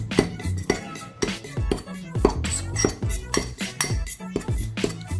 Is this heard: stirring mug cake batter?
yes